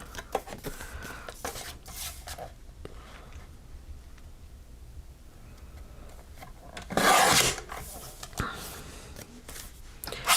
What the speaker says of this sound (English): And then I'm going to trim the underneath the cute penguin.